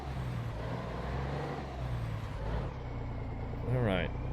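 A Mack truck with an MX-11 engine drones in American Truck Simulator, a steady low engine rumble throughout that shifts slightly partway, with a person talking over it and a short chirp near the end.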